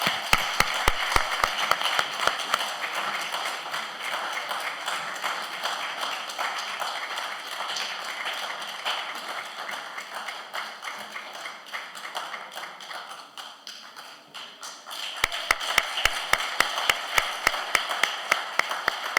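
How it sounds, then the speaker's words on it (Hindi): Audience applause after a Hindi/Urdu short stage play adapted from an O. Henry story: loud sustained clapping from a full house fills the stretch, with sharper individual claps standing out at the start and end. "तो एक बार आप सबकी ज़ोरदार तालियों"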